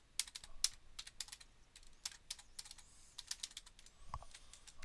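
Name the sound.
typing a password on a computer keyboard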